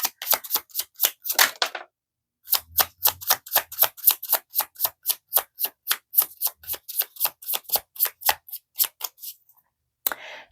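Tarot cards shuffled by hand in rapid, evenly spaced riffling bursts, close and crisp, with a short pause early on and a final lone flick at the end; no talking.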